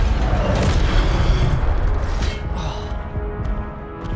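Incendio fire spell cast in Hogwarts Legacy erupts as a loud, deep booming whoosh with crackling, rumbling low end, sustained for several seconds with a few sharp hits layered on top, no talking.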